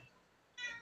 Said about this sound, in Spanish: Está el gato, perdón, está el gato